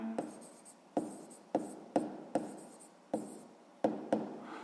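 Pen or chalk strokes write out a math equation by hand, a series of sharp taps and short scratchy scrapes repeating in an uneven rhythm, close and fairly quiet.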